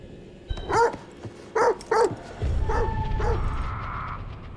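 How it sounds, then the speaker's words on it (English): A dog in the video game The Devil In Me gives several sharp, close barks, two quick ones, then a pair, then a couple more with whimpering yips, followed by a low rumbling noise. "No, no, don't attack the dog."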